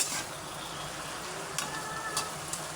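Bitter gourd (ampalaya) sautéing in a pan gives a soft, steady sizzle with a few light clicks of stirring, close but quiet, with no talk.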